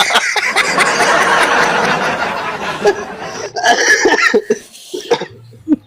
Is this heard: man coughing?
yes